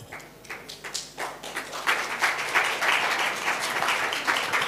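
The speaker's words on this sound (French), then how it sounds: "Il mérite des applaudissements plus fournis." An audience at an entrepreneurship talk breaks into applause, starting with scattered claps and swelling into steady, dense clapping that holds for several seconds.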